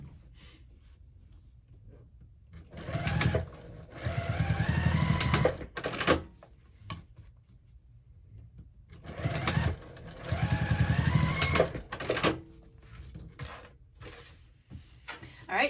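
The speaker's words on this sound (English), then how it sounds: "press that seam open and top stitch on either side" A sewing machine runs in two bursts, top stitching both sides of a pressed seam, its needle chattering rapidly and close, with quiet pauses and small handling clicks between runs.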